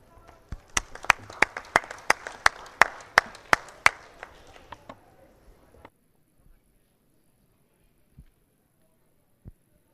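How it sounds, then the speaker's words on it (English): Sparse, evenly spaced handclaps from a small group honoring presenters at an event, a dozen or so crisp claps in a loose rhythm that stop after a few seconds, leaving near silence with a couple of faint stray knocks. "maybe you can join me in giving our presenters one more round of applause"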